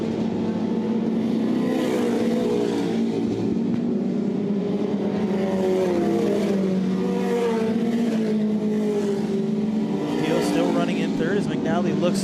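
Dirt-track race cars roar around the track in a continuous, loud engine drone that rises and falls as they run side by side, under an announcer's steady commentary.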